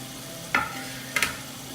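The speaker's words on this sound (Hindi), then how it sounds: "फिर अच्छे से इसको मिक्स कर लेंगे।" Fried vegetables and cauliflower being stirred in a pan for undhiyu, two brief scraping strokes over a steady low sizzle, close by, no talking.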